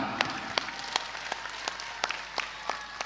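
Scattered hand claps ring out sharply in a loose, uneven rhythm, a small group applauding with gaps between claps at an Indonesian religious gathering.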